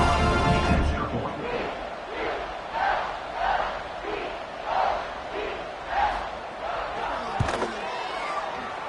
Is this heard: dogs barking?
no